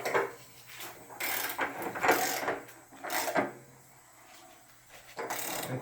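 Socket wrench tightening an electric water heater element, several short bursts of ratcheting clicks and metal scraping separated by pauses, close by, with no talking.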